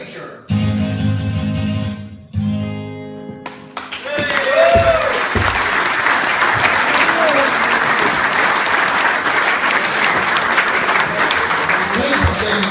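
An audience applauds a live music act, with a burst of clapping and crowd noise rising after the song's final notes and holding steady and loud to the end.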